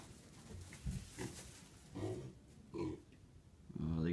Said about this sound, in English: Here's the four new pigs.